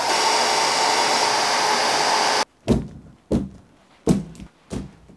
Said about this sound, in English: Just put on the heat shrink.